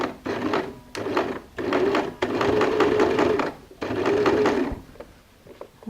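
A sewing machine edge-stitches binding onto stretch fabric in steady whirring bursts of rapid stitching, stopping and starting several times. It is close and loud.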